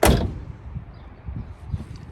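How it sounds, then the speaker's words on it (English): A 1969 Camaro's door shuts with a single solid thump at the start, followed by low background rumble and faint room noise. "Door shut nice and clean"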